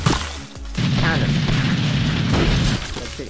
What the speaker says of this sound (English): Steven, use cannon.